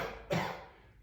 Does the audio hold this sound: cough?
yes